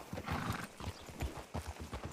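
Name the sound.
horse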